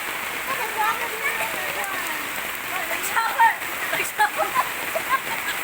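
Steady rain pours down in a continuous, dense patter with splashing drops, while voices talk faintly in the background.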